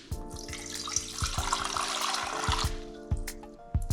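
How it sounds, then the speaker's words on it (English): Two cups of water pour into a cooking pot for rice, a steady splashing stream with clinks of the container against the pot, close and fairly loud. "So we'll put 2 cups of water in there."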